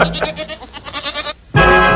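A goat bleats in a series of quavering, wavering cries, then falls briefly silent before one loud, sustained bleat bursts in close and strong at the end.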